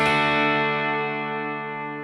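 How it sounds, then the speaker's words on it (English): A guitar run through a Headrush unit rings out as a sustained chord, with a synth-like effect blended under the dry signal, slowly fading over about two seconds. "you can kind of get this blend of little synthy stuff underneath your dry sound"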